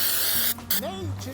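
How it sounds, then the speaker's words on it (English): A hissing aerosol spray of wax and grease remover in short bursts on a 1966 car radiator support, with a voice speaking over it. "flip it over to the other side and start spraying"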